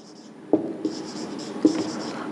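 Pen or pencil writing on paper, a few sharp taps and short scratchy strokes, close and quiet against a soft room hiss, with no talking.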